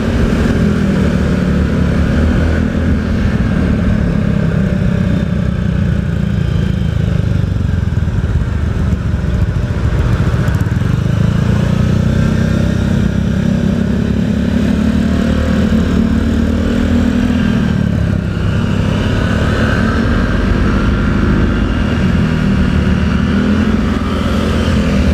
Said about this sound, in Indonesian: ini saya pakai motor Vario ya teman-teman, Vario.